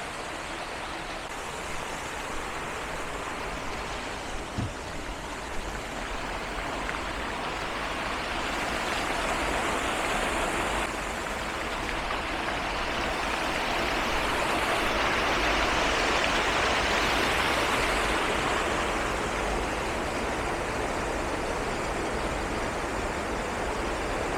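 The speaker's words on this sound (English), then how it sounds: "but it's still a waterfall nonetheless" A small waterfall on the North York Moors near Goathland produces a steady, broadband rush of falling water, continuous and moderately close, swelling slightly midway with no voices.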